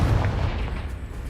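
Confringo fire spell from the Hogwarts Legacy video game, heard as a loud, close, low booming blast that rolls on and fades over about a second, with no talk.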